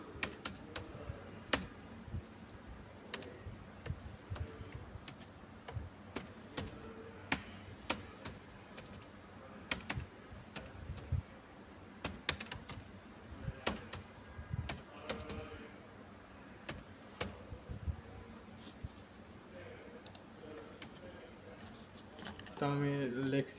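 Irregular bursts of clicking keystrokes on a computer keyboard while typing text in MS Word, close and fairly quiet, with a person talking over the clicking.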